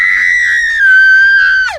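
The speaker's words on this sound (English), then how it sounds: "she starts screaming as loud as she can" A woman lets out one long, piercing scream at full force, high and sustained for nearly two seconds before it breaks and drops off sharply at the end, very loud and close.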